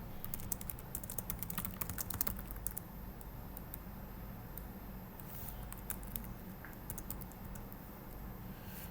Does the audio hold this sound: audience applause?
no